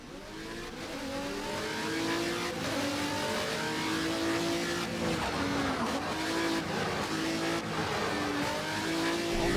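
A race car accelerates hard out of a corner at Silverstone, its engine note climbing and shifting through gears in a loud, sustained roar, with further rising pitch sweeps as it pulls away.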